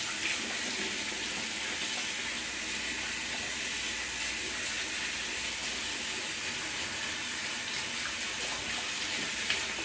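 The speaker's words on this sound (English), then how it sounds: "I'm gonna wash out the brush so you can see." Water runs steadily from a tap as a shaving brush is rinsed under it, a continuous close hiss and splash that holds at an even level throughout, with no voices.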